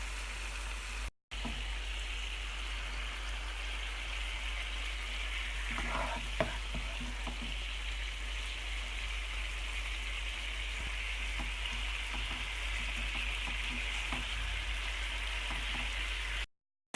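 Spiced yoghurt chicken fries in a pan, a steady close sizzle and crackle that holds throughout with a few faint stirring clatters midway, no talking.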